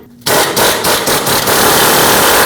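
An impact wrench hammers on the steering knuckle nut of a 2005-2021 Nissan Frontier 2WD, kicking in abruptly with a loud, fast rattling burst that runs in quick pulses for about two seconds, close up and with no talking.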